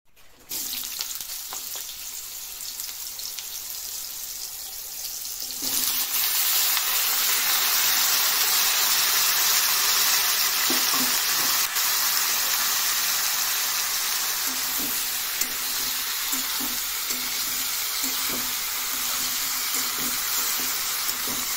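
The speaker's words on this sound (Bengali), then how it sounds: "তেলটা গরম হওয়ার পর সবজিগুলো ছাড়বো।" Vegetables frying in hot oil in a wok (kadai), with a steady broadband sizzle that gets noticeably louder partway through as the vegetables go in, then holds continuous and close with faint stirring clicks.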